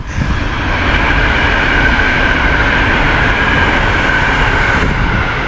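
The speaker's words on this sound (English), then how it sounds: "That fucking train." A train rumbles past close by, a loud, steady roar of rolling wheels and rail noise lasting throughout with no one talking.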